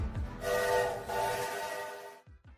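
A train horn sounds in one sustained blast lasting about two seconds, loud and tonal with a rushing noise beneath it, then cuts off leaving a couple of low thuds.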